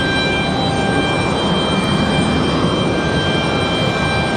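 A Breeze Airways plane arrives at Raleigh-Durham airport, a steady loud broadband engine roar with faint high whining tones, continuous and without talk.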